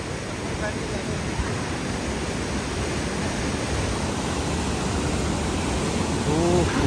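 A powerful high waterfall at Chakrata, Uttarakhand, throws spray with a loud, steady, dense roar that fills the whole scene and holds unbroken throughout.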